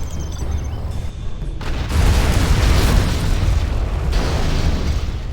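A particle cannon strike in the strategy game Command & Conquer Generals Zero Hour sets off a heavy, rumbling explosion. It swells suddenly and roars on loudly for several seconds.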